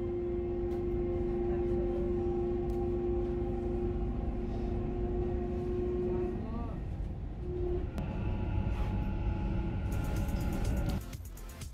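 Dubai Metro train pulling into Expo 2020 station, a loud steady rumble with tonal motor whine that slows and shifts as it arrives, then a sharp hiss as the doors open near the end; voices are faintly present.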